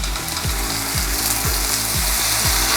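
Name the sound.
orange steak frying in oil in a stir fry pan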